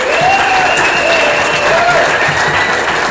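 A conference audience applauds the event crew at OggCamp in Manchester with loud, sustained, dense clapping and some whoops or cheers rising above it.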